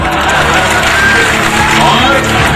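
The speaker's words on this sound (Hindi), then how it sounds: "तालियां फिर बजी, ठहाके फिर लगे" Dense applause and cheering from a packed crowd of men and women at an Indian political gathering featuring Congress leader Digvijay Singh, a steady loud wash of clapping and shouts that stays continuous throughout with no pauses.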